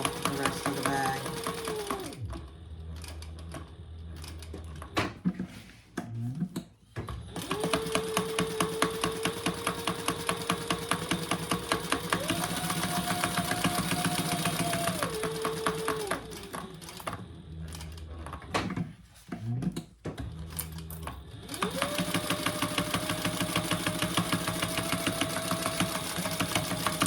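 A sewing machine bastes a front pocket in place on a shoulder bag, running in long steady rapid-stitch stretches with brief pauses between runs, close and alone.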